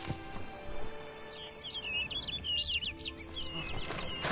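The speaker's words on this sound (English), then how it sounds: "Looks like the bird's leading me somewhere." A bird chirps in an outdoor scene of the Witcher 3 Blood and Wine video game, a short burst of quick high twittering notes over low ambient background, fairly faint.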